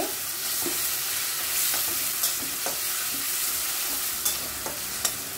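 Chopped garlic and ginger fry over lowered heat in a pan with onion for palak paneer. A loud, even sizzle carries throughout, punctuated by occasional light taps and scrapes of stirring.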